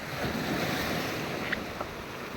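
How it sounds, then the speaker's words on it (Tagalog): Water flows from a spring beneath rocks outdoors, a steady broadband rushing wash with wind buffeting the microphone and no talking. "Tapos meron pang tubig na umaagos."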